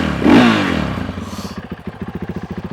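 Husqvarna FE501 enduro motorcycle engine revving up in one loud, close burst, then dropping back to a fast, steady thumping idle.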